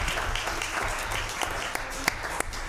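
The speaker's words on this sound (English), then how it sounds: "let's give a huge round of applause for Linda Wall." Applause from a meeting audience, a steady wash of many hands clapping at a moderate level with a few sharper individual claps standing out, and faint voices mixed in underneath.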